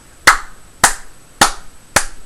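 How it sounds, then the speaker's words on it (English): Hands clap four times at an even, unhurried pace, each clap crisp and close with a short ringing tail and quiet gaps between. "we're going to clap 4 times"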